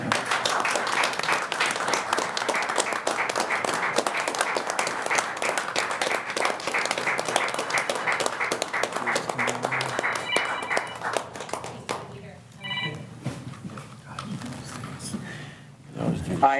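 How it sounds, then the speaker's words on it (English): A city council chamber audience gives a standing ovation, loud dense clapping sustained for around twelve seconds before thinning into scattered claps and faint voices. "I would just like a round of applause and a"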